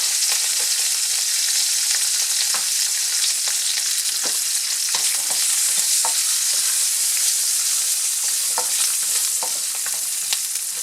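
Chopped onions and garlic sizzle loudly in hot oil left from browning beef, a constant close crackle broken by scraping stirs and pops.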